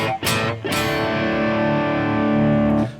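Distorted electric guitar run through a NU-X MG-300 modeling processor with a Friedman HBE (Harry Brown) cabinet, loud and dark-toned: a few quick picked strums and then a long ringing sustained chord, with nothing else audible.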